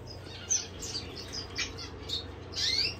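Gouldian finches in an aviary, including young fledglings, giving soft scattered chirps and short squeaky calls, faint against a low steady background hum.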